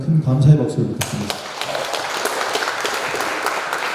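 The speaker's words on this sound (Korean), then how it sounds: "저희 건축사님께 다시 한번 큰 감사의 박수를 부탁드립니다" Residents at a community briefing clap for an architect, with a voice talking at the start before the dense applause takes over and continues steadily.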